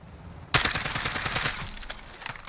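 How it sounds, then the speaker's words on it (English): Sustained automatic fire from an M4 rifle converted to .458 SOCOM in Call of Duty Modern Warfare, a rapid loud burst of rhythmic shots lasting about two seconds after a quiet start. "we're just going to let it rip and see what that recoil looks like"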